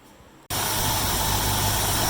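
1972 Mercury Comet carbureted engine catching after a quiet pause, then settling into a loud, steady running idle close by.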